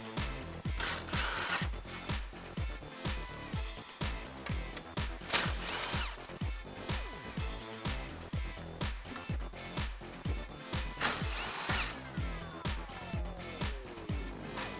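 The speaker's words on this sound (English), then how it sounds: "Grab that 10 millimeter socket and remove all 4 of the bolts" A power tool drives a 10 millimeter socket on the grille bolts of a 2013-2018 RAM 1500 HD, giving a steady rapid rhythmic whirring and clatter that runs throughout at moderate level, with no talking.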